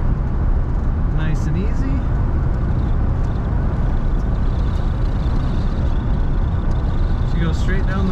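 A 1972 Dodge Charger SE cruising on a dry road at up to 55 mph, with a loud, steady engine and road rumble throughout and a voice talking briefly over it.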